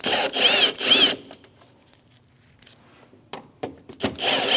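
A power tool spins out screws from plastic trim on a Chevrolet Malibu, two loud whirring bursts at the start and another at the end, separated by a quiet stretch of small clicks and handling noises.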